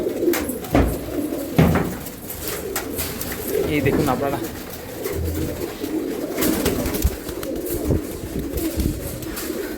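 Madrasi pigeons coo and flutter close by in a loft, a busy, overlapping chorus while someone talks over them.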